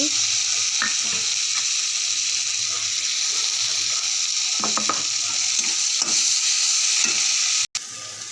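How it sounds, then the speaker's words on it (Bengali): Onions and chopped tomato fry in a wok for a small tengra fish curry, making a steady close sizzle with occasional stirring scrapes before cutting off near the end. "পেঁয়াজগুলো ভাজা হয়ে গেল এবার আমি দিয়ে দেব টমাটো কুচি"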